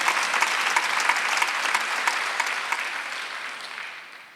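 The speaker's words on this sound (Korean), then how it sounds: "박수 3개 치세요" Congregation applauding during a Korean church Sunday worship service, a steady wash of many hands clapping together that holds for several seconds and then tapers off toward the end.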